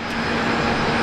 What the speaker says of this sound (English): So here comes the big 777 from United. Okay, let's rate this landing.